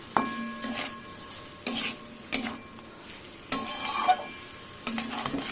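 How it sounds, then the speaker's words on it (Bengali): Onion, garlic pieces, turmeric, salt and spices sauté in a pan, with repeated loud scraping stirs of a utensil against the pan over a soft sizzle, close up and without speech. "এবার মশলাটা ভালো করে কষাবো"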